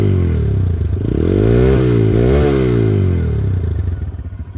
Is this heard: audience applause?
no